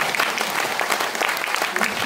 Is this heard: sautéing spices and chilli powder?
no